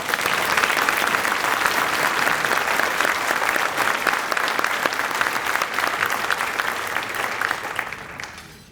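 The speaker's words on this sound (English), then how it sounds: "Let's give these phenomenal young ladies another round of applause." Applause at a youth awards luncheon, a large crowd clapping loudly and continuously for several seconds before tapering off and fading at the end.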